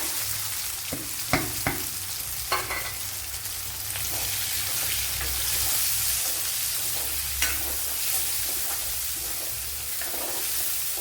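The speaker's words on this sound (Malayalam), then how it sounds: "ഇവിടെ ഇഞ്ചിയും വെളുത്തുള്ളിയൊക്കെ മൂത്ത് വന്നിട്ടുണ്ട് അതിലേക്ക് ഇനി കൊച്ചുള്ളി ഇട്ട് കൊടുക്കാം" Small onions fried in hot oil with browned ginger and garlic for a Kerala-style chicken curry, giving a steady sizzling hiss with a few sharp stir clicks from a spoon in the pan and no voices.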